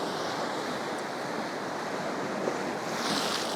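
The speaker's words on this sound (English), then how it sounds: "I'm now starting to get wet with the crashing waves" Waves crash onto the shore at high tide in a steady, roaring surf that fills the scene, loud and close with some wind buffeting the microphone and no voices.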